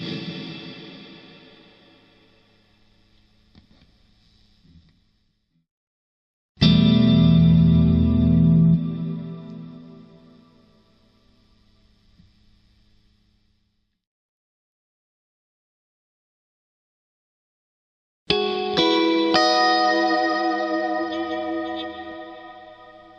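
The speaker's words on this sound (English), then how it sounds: "I will set it to maximum dwell time and dime the reverb level knob so we can give a listen to the trails." Guitar played through an Ethos Clean Fusion Deluxe preamp with reverb dwell and level maxed, three separate strummed phrases each followed by long, lush reverb trails decaying into silence, no talking.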